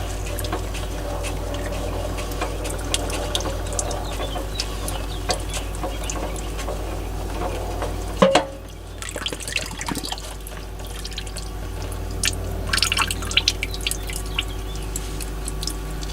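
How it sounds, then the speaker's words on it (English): Fluid drains from a 1994 Chevrolet Camaro Z28 under rebuild, a steady trickling and dripping stream with a brief clunk midway, continuing close and alone without talk. "I'm gonna let this finish draining out."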